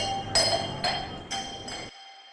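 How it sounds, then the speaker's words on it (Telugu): Glass falls and shatters as a film sound effect during a breakup scene: four sharp, bright crashes with short ringing tails, fairly close, then an abrupt cut to silence. "వెనక గ్లాస్ పడుతున్న సౌండ్ వినిపిస్తుంది"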